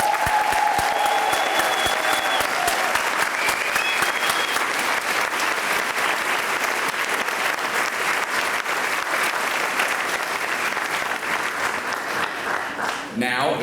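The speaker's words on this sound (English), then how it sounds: "Please join me in applauding this class one last time" Sustained loud applause from a large audience celebrating a graduating school class, dense steady clapping with crowd noise and a few voices, carrying on without pause until it tapers at the very end.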